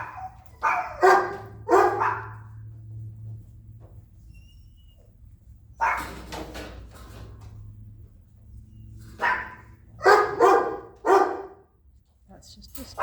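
A dog barks from inside a crate during training, sharp clustered bursts of barking separated by quiet gaps, close and loud, with a person speaking between bouts.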